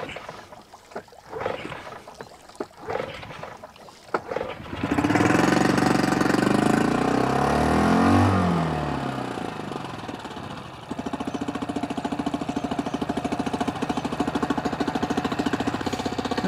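After some quiet handling noises, a small four-stroke outboard motor starts with a rise in revs, then settles into a steady, loud, chugging idle.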